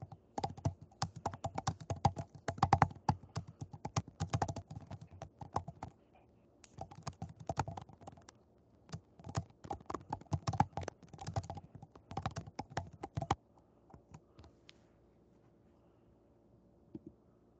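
Keys clatter in fast bursts of typing on a computer keyboard, pausing briefly between runs of keystrokes before trailing off into near silence, close and fairly quiet with no talking.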